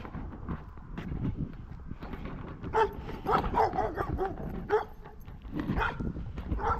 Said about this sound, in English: Here's my doggy friend.